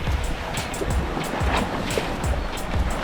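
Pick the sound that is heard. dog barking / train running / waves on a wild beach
waves on a wild beach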